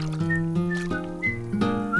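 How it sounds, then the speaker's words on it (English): A cartoon character whistles a tune in the animated children's series 64 Zoo Lane, with clear, close, sustained notes stepping from pitch to pitch in a steady melody. "Let's whistle a song instead."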